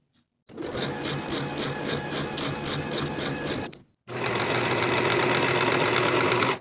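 Sewing machine stitching a sleeve seam on a denim jacket, a rapid mechanical whir with steady needle thumps running in two bursts separated by a short stop, the second slightly louder.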